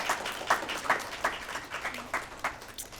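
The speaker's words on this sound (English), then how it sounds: "let's applaud each scholar" Modest audience applause for scholars at an awards event, a small group clapping in loose, uneven rhythm, moderately close, with no talk over it.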